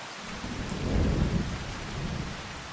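Heavy rain and a low rolling rumble of thunder fill the scene in Farming Simulator 25, a dense steady hiss with a deep swell of thunder building through the middle, with no voices.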